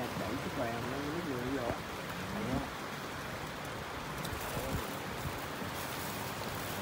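Rain falls steadily around a pot of spicy chicken hotpot being eaten outdoors. The soft patter runs throughout, faint beneath people talking in the foreground.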